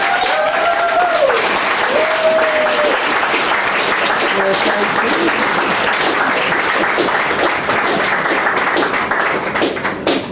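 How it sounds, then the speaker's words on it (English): Sustained audience applause at a poetry club open mic fills the room, dense and even clapping from a crowd, with brief cheers near the start and no pause throughout. "that deserves another round of applause, please, for Samantha Melia."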